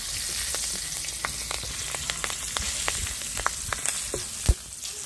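Split green chilies drop into hot tempering oil for a village-style pipuli greens curry with katla fish head, giving a steady close sizzle with scattered sharp crackles and one louder pop near the end; no talking.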